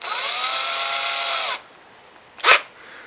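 A small, cheap electric drill whirs steadily at high pitch for about a second and a half, then stops, followed by a brief sharp click or clatter.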